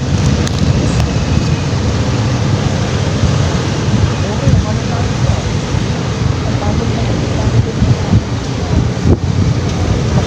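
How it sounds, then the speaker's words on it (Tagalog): Strong wind buffets the microphone at a fishing tournament with a loud, constant low roar throughout, drowning out other sounds. "Mahangin, maingay ito"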